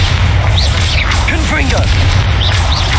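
A Bombarda blasting spell going off in the Hogwarts Legacy video game, a loud booming impact layered with whooshing and crackling game effects, with a voice speaking over the action.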